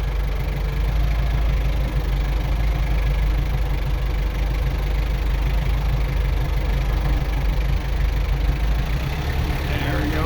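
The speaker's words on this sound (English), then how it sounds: "I just put it in idle. It's in 4th gear and it's just slowly spinning." A vehicle engine idles in fourth gear, barely turning over as it creeps forward on gravel, giving a steady, continuous low rumble that stays even and close throughout.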